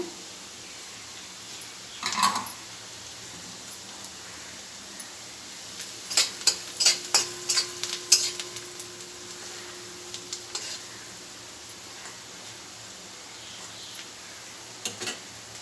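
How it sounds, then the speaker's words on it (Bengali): Onions frying in a pan with turmeric, chili and coriander powder for singara filling: a quiet, low sizzle broken by bursts of spoon-on-pan stirring clatter, with a few isolated knocks. "পেঁয়াজটা লাল লাল করে ভেজে নেব"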